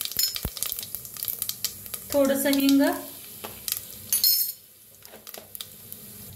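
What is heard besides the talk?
cumin and mustard seeds crackling in hot oil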